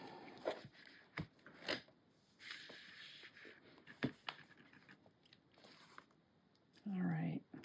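Foam stamp package being opened at a craft table, with a series of crisp crinkles, snaps and rustles of plastic packaging up close, ending in a longer scraping tear.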